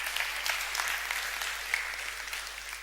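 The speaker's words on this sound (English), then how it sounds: "Give her a round of applause." An audience at a TEDx music talk breaks into sustained, even applause, many hands clapping steadily at moderate loudness for the whole stretch, with no speech over it.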